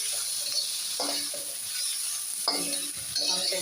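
Chicken with green chillies and black pepper being stirred in a pan, a steady frying sizzle broken by a few scraping strokes of the spoon, close and with no talking.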